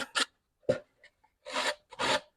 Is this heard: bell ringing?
no